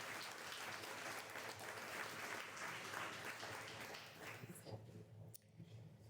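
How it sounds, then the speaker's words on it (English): Faint audience applause at an annual meeting, a broad wash of clapping that fades out toward the end, heard at a distance and low in level. "How about another round of applause?"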